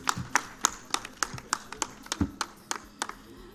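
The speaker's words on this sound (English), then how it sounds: "you should clap for me too." Conference audience clapping at the close of a youth energy event, a sparse, uneven patter of individual claps from a modest crowd, sharp and fairly close, without talk.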